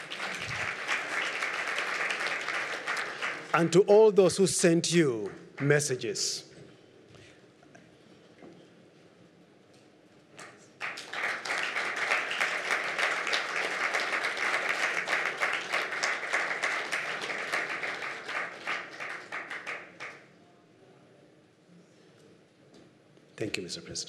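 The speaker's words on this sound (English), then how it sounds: "Let's give another round of applause." Two bursts of meeting audience applause at a Zimbabwe debt arrears side event, a short one early and a longer, steady one later, with someone speaking through a microphone between them.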